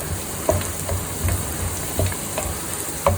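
Cashew nuts fry in a pan for a one-pot vegetable pulao: a close, bubbling sizzle runs throughout, with a regular rhythm of stirring scrapes and a few sharper knocks of the spoon.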